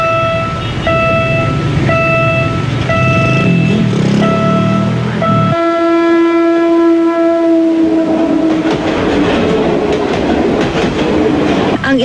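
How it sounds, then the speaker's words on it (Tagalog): At a railway crossing, a repeating two-tone crossing alarm rings over a passing train, then a long loud train horn blast sounds and the rumble and clatter of railcars continue close by. "malakas na busina ng tren at alarma ng crossing keeper"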